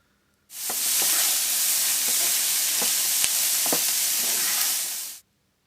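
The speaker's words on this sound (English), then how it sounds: "pour in the onions, sprinkle the turmeric, and then the cumin. Let's get this sautéed." Onions with turmeric and cumin sautéing in olive oil in a pan, a steady loud sizzle that holds for about five seconds with a few faint stirring clicks and no talking.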